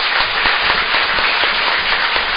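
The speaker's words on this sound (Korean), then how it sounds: "큰 박수 부탁드립니다" Sustained applause from an audience at a Korean school-dietitian policy forum, dense continuous clapping welcoming a National Assembly member, steady and fairly loud throughout with no talking.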